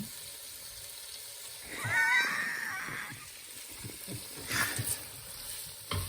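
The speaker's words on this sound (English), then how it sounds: "2 cloves, and fry that for about 2 minutes." Two garlic cloves frying in a pan for vegan paella, a faint sizzle that swells briefly into a sharper hiss and crackle midway, with a second short burst later, quiet overall.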